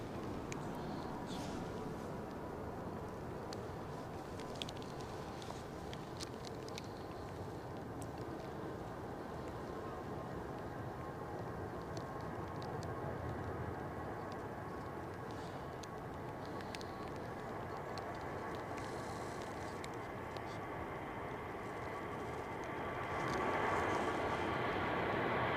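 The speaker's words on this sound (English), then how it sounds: "Next departure I can hear spooling up" Aircraft engines spool up at Manchester Airport on a stormy day as a plane prepares to depart, a faint, steady distant roar under wind noise that swells slightly toward the end.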